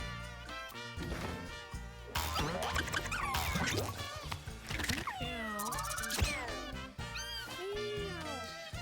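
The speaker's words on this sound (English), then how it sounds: "We got a new cat." Cartoonish cat meows and yowls from the cat-breeding roguelike Mewgenics, several distinct rising and falling calls in quick succession, loud and alone with no talking.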